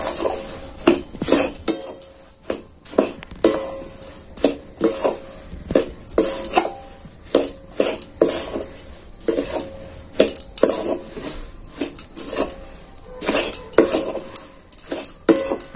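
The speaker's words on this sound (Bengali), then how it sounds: "আবারও আমি খুব নেড়ে চেড়ে মিশিয়ে নেব।" Puffed rice mixed with hot jaggery is stirred in a metal pot, a spoon clanking and scraping against the sides in a steady run of close, loud strokes with no talk.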